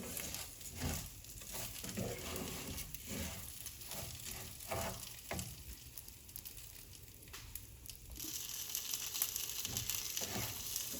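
Rice browning in a pan for Mexican red rice gives a steady close-up sizzle, broken by repeated stirring scrapes and shuffles, and the frying hiss grows brighter and fuller toward the end.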